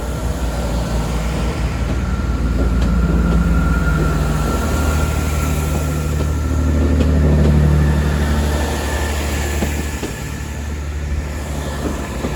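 A Great Western Railway train moves through Exeter St Davids station, a sustained low rumble of wheels and engine that swells in the middle and eases off, heard fairly close with a faint high whine above.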